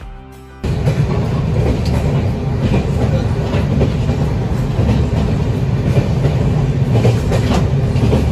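Poorva Express passenger train at a station halt: a steady, loud rumble of rolling carriages with rhythmic wheel clacks, close by, continuous throughout, no talking.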